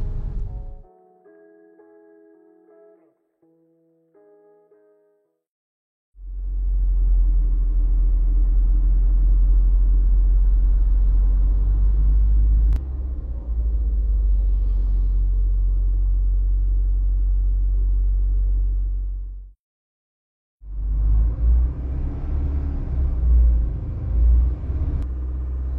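Cabin noise inside a soundproofed Toyota Innova Zenix gasoline car: a deep, steady low rumble from engine and road, loud and continuous, broken by a brief silence before resuming, with faint tonal sounds at the start.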